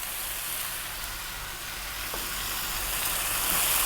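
Roughly hand-chopped whole plum tomatoes from a can sizzle steadily in a hot pan while being mixed, a constant bright frying hiss that swells slightly louder toward the end, with no voices.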